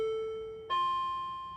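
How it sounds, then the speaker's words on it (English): A two-tone electronic doorbell chimes once in a home, a clear high note followed by a lower one, faint and alone in a quiet room. "Oh, that's the doorbell."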